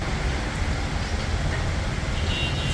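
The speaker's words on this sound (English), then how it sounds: "Just heading out to do some sightseeing and it started to pour down." Heavy midday rain pours down on a street in Saigon, Vietnam, a dense, loud, unbroken hiss of water hitting the surface with faint traffic rumble beneath.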